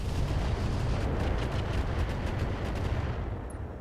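A mech alpha strike in the RogueTech battle game, with a rapid barrage of weapons fire: dense overlapping gunshots and booming impacts pounding continuously before tapering off near the end, with no talk.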